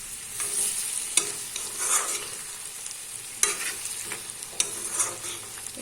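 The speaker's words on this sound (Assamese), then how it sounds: "ভালদৰে মিক্স কৰি ল'ম মছলাখিনি।" Spices being stirred and mixed in a pan for a sweet amla pickle, giving a steady scraping and sizzling texture with a few sharper clinks of the spoon against the pan, close up, with no voices.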